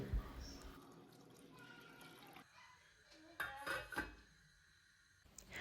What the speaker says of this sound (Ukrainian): Заливаю печінку водою та ставлю її на вогонь варитися 20 хвилин.